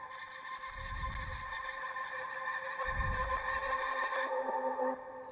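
A guitar sample run through a Portal Astro effect preset and an autopanning plugin: sustained shimmering, sonar-like tones with a faint echo and two soft low swells, steady and alone.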